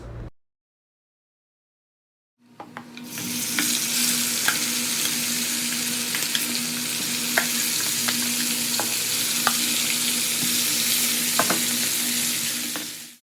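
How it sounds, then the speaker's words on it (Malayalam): Chicken pieces fry in hot oil: after a short silence, a loud, steady sizzle with crackling bursts and occasional stirring clicks continues to the end. "ഫ്രൈ ആയ ചിക്കന് എണ്ണയിൽ നിന്ന് കോരി മാറ്റിയാൽ ബാക്കിയുള്ളതും കൂടെ ഇതേപോലെ ഒന്ന് ഫ്രൈ ചെയ്തെടുക്കുക"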